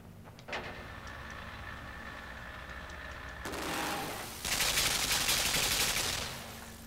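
Sustained automatic gunfire from the video game Limbo, a steady mechanical rattle that swells louder midway and then holds as a dense, harsh burst near the end.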